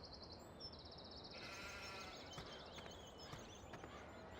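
Sheep bleat repeatedly in a Farming Simulator 17 pasture, several short wavering calls at moderate distance over a steady ambient bed of game noise, with faint clopping near the end.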